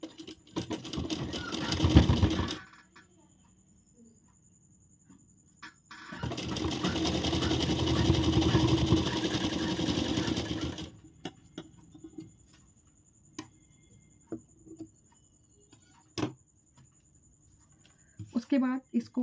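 A sewing machine stitches a princess-cut blouse in two loud bursts of rapid, continuous whirring, with quiet gaps, scattered clicks and someone speaking between the runs.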